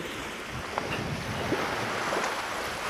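Calm sea lapping on a beach in Spain, a soft continuous wash of small waves mixed with wind noise on the microphone, no voices.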